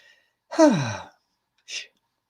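A person breathes out slowly in a long, breathy exhale, followed after a pause by a shorter, softer breath, close and clear in otherwise silent surroundings.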